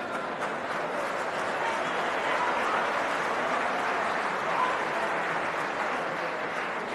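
Steady, sustained applause from a large audience at a political rally, a dense continuous wash of clapping holding at an even level throughout with no voice rising above it.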